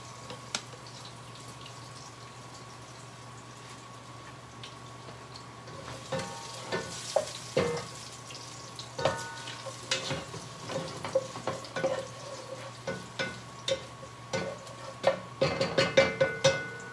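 Ginger sautéing in a pan for a vegetable dish with coconut milk, heard as a soft, close sizzle with stirring scrapes and clinks that grow busier and louder in the second half, with no talk.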